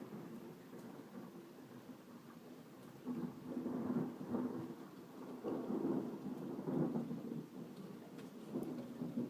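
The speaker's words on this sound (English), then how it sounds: "the rain's starting to come down too" A thunderstorm with rain beginning to fall: a steady wash of rain noise, with rolling low thunder rumbles swelling and fading throughout, and no voices.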